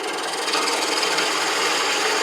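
A wood lathe cuts a tenon on a spinning branch, giving a continuous close scraping hiss that holds steady throughout, with no talking.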